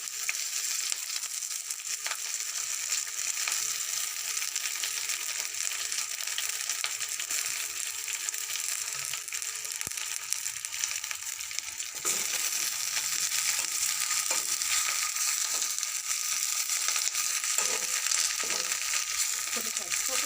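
Grated coconut being lightly roasted in a pan after salt is added, giving a steady dry sizzle and scraping hiss across the whole stretch, a little brighter in the second half, with no talk.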